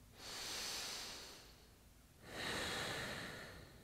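Slow, deep breathing during a yoga stretch for runners: a long airy exhale, a brief pause, then another long breath, close and fairly quiet with no talking.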